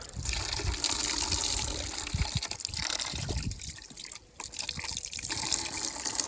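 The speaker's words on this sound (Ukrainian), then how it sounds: "Зараз ми, зараз ми додамо сюди водички і помиємо нашу з вами рибку." Water gushes and splashes steadily from a tap or pitcher over a large freshly cleaned fish, a continuous close running stream with brief splashy dips and no voices.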